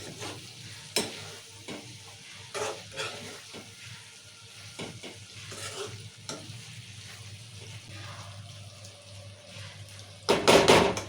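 Bottle gourd curry with coriander and sesame powder is stirred in a pan, soft scraping and sizzling with intermittent clinks of the utensil against the pan, ending in a louder clatter.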